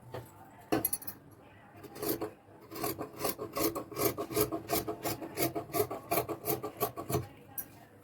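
Scissors cut blouse sleeve cloth in a rapid series of close, crisp snips and rasping strokes, about a dozen in quick rhythm after a few scattered cuts.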